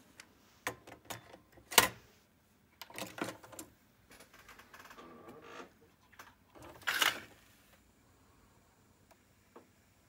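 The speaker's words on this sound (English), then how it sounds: "Testing auto calibration on Pioneer CT-93, normal tape." Pioneer CT-93 cassette deck running its auto calibration on normal tape: a quiet run of sharp mechanical clicks and clacks, scattered singly and in short clusters, with brief whirring stretches between and near silence toward the end.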